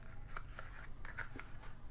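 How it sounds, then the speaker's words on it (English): Scissors trimming excess paper during a craft project: several quiet, close snips spaced out over a couple of seconds, each a short crisp cut over a low background hum, with no talk. "I'm just going to get my scissors and trim off the excess"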